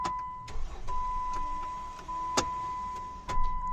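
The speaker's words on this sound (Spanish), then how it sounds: "Se le fue el motor de arranque." Failing starter motor on a Jeep Wrangler 3.8 engine gives a few sharp, intermittent clicks and short bursts instead of steady cranking, heard close up under a constant electrical whine in a workshop.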